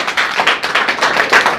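An audience at a coaching class in Madhubani district, Bihar claps together in a dense, lively burst of applause, close and loud, with no talking.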